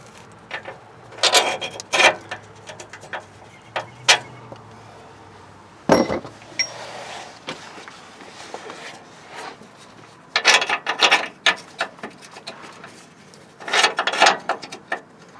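Bolts are pulled from a Nissan Titan transmission cross member, giving scattered close metallic rasps, scrapes and clinks in irregular bursts with quiet gaps between them, and no speech.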